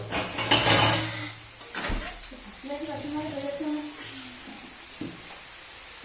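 A child scrubs and washes up dishes, with clattering of plates and cutlery and some running water, while a voice talks over part of the scrubbing.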